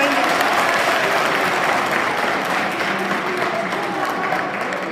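An audience claps steadily and loudly throughout at a college poetry recitation event, a dense continuous applause with no talk over it.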